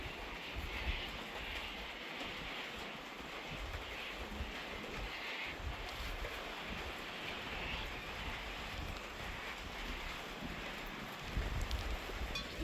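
Steady rain falls on a geese farm, a dense continuous hiss of drops at moderate distance with no talking and the birds quiet.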